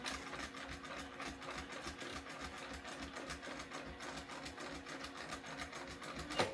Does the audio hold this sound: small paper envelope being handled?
no